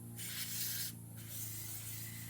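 A steady hiss of WD-40 aerosol sprayed onto the tilt mechanism of a table saw, running in continuous bursts at close range with a constant low hum in the background.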